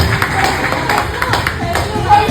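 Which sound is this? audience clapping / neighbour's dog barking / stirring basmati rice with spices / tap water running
audience clapping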